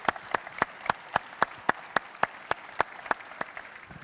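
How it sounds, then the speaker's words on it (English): Sparse, evenly spaced hand claps at a Binance Blockchain Week conference in Dubai, a steady rhythm of about a dozen sharp claps over a light crowd murmur, moderately distant in a large hall. "let's have a massive round of applause for all the speakers"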